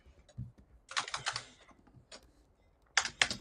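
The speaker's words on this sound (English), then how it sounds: "I hear your keyboard" Computer keyboard typing, with bursts of rapid close key clicks separated by short pauses, then two sharp clusters near the end, heard alone with no talking.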